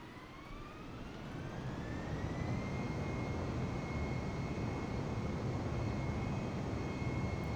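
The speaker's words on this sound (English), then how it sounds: "let's take off" An airplane takes off with a jet engine roar that swells from a rising whine into a loud, steady rush of thrust, continuous and dense throughout, with no voices.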